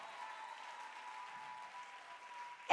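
A church congregation claps their hands during a service, a faint, distant wash of applause holding steady for a few seconds with a steady tone beneath it, ending in a sudden louder burst.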